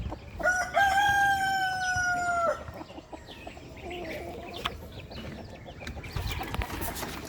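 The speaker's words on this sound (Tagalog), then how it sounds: "Tapos ito mga manok na alaga ni mother." A backyard rooster crows once, loud and close, a long drawn-out call followed by quieter farmyard clucking and rustling.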